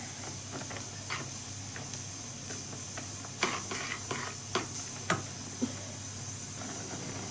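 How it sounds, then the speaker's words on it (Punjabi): A pot of vermicelli boiling in milk simmers close by with a steady hiss and scattered soft pops from the bubbling liquid. "ਆਪਣੀ ਸੇਮੀ ਨੂੰ ਉਬਾਲ ਆ ਰਿਹਾ"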